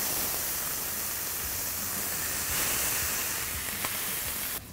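Two strips of bacon sizzle on a hot grill, giving a steady, dense hiss that stays loud and even throughout with no talking.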